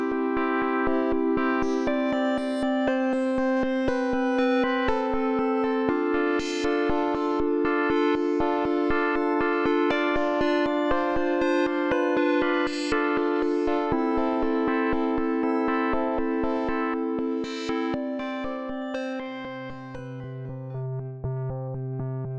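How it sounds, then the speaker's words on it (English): A synthesizer built from Ableton Live 12's Simpler used as a wavetable synth plays sustained chords through heavy effects, with a steady pulsing, rhythmic modulation and a lower tone entering near the end. "you can get some nice effects, and as you can hear, some really sort of rhythmical things going on"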